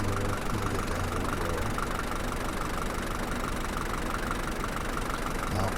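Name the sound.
truck engine driving in Farmers Dynasty video game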